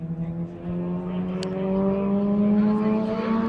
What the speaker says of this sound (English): Listen to the turbos pulling.